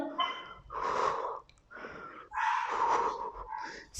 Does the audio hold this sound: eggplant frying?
no